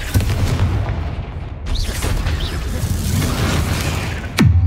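A magical Bombarda spell explosion: a dense rumbling, crackling roar swells throughout, capped near the end by a sharp, loud booming burst that decays into low rumble.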